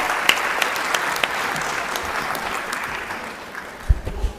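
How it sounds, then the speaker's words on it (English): A school board meeting audience applauds students honored with the Seal of Civic Readiness and Biliteracy, a steady sustained clapping throughout that fades slightly toward the end with a few louder claps. "a round of applause for all of our Seal of Civic Readiness and Biliteracy students"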